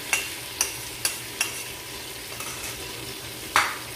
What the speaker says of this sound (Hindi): अब हम इसमें शामिल करते हैं ये लहसुन और अदरक का, हरी मिर्चों का पेस्ट। इसको यहाँ पे अच्छा सा हम सौते करेंगे,